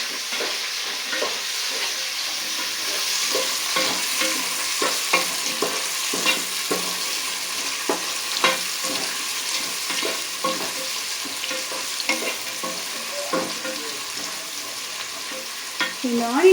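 Shallots and large onions frying in oil for a vegetable biryani, a steady bright sizzle broken by frequent stirring scrapes and clinks of a ladle against the pot, with no speech.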